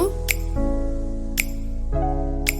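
A spoon stirs laccha semai with sugar and powdered milk in a pan, giving three sharp metallic clinks at a steady interval over a constant tonal hum.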